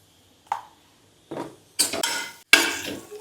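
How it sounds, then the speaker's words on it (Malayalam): Mushroom masala is sautéed in a pan with a metal spoon, giving a few separate, close clinks and scrapes against the pan. The later strokes are longer and sizzle slightly, with no talking. "നന്നായിട്ട് കുറച്ച് വഴറ്റി കൊടുക്കും."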